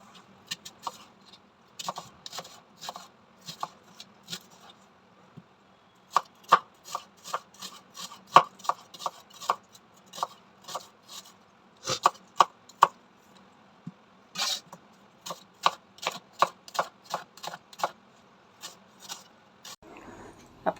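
Onions chopped with a knife on a board: quick, crisp strokes come in rhythmic runs separated by short pauses, close and fairly quiet against a silent background, with no talking.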